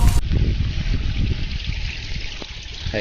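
Rainwater runs off a village yard in Ratnagiri during the monsoon, a close, steady trickling and splashing flow with low rumbling underneath.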